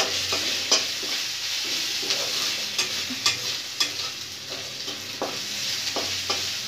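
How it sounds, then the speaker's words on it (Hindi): Ginger-garlic paste frying in a pan sizzles steadily up close while a spoon stirs it, leaving repeated scraping clicks at an uneven rhythm, with no voices. "अच्छे से मैं चला लूँगी अदरक लहसुन का जो कच।"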